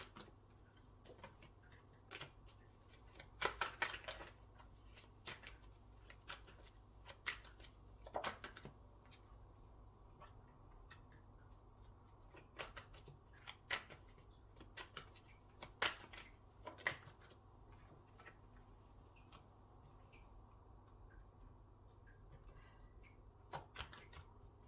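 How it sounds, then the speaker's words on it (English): Tarot cards shuffled and pulled at a reading, with soft quiet riffles and scattered crisp flicks and taps spread irregularly over a low, hushed background. "I'm going to pull some more cards."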